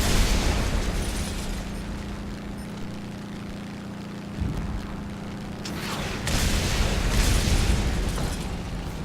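Bombs exploding in a video game: heavy booming blasts and rumbling bursts over a constant mechanical drone, with louder surges of explosion noise partway through.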